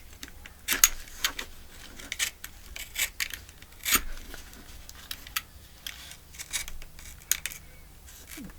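Knife cutting open a paper journal card, a series of short crisp slicing and scraping strokes in an irregular rhythm, close and quiet against a near-silent room.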